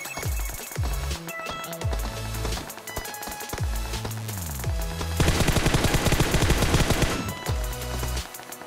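An unbroken, glitch-like stream of rapid automatic fire in PUBG Mobile, an enemy shooting on and on without reloading; loud and sustained, swelling to its densest stretch near the end.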